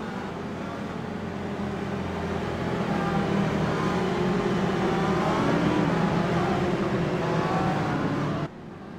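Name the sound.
race car engines in a sim racing video game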